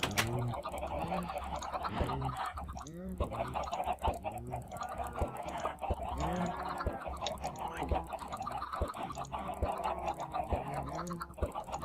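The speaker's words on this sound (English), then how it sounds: "We got plenty of chooks now." Minecraft chickens cluck in a game world, a busy run of short, repeated clucks and squawks at close range throughout, with a voice talking faintly underneath.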